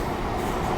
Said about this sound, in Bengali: Baharampur court Azimganj MEMU passenger Nasipur rail bridge পার করে ছুটে চলেছে আজিমগঞ্জ জংশনের পথে।